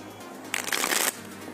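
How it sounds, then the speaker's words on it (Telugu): A deck of playing cards being shuffled during a card trick, one quick riffling burst of about half a second over a faint steady background hum. "అందుకే షఫుల్ చేస్తున్నా ఎన్నిసార్లు."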